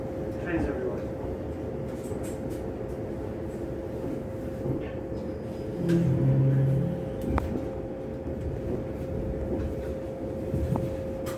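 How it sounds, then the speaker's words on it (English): A steady mechanical rumble and hum of trains fills London Waterloo station, with a constant crowd murmur and people talking nearby, and a brief louder swell midway. "there's trains everywhere"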